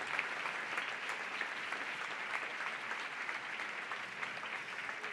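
Sustained applause from a crowd at a La Patum celebration event, steady continuous clapping at a moderate distance with no speech, holding even throughout.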